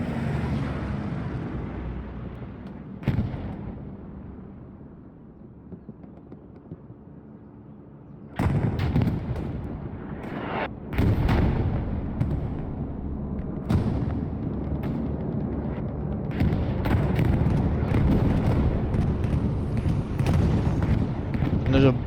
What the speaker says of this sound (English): There's a bombing run coming through from, ooh, wow, a 25 FPS bombing run.